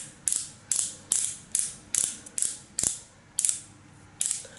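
A twist-up dark circle corrector stick is cranked with a steady series of about a dozen crisp ratcheting clicks, close and evenly paced, with no talking.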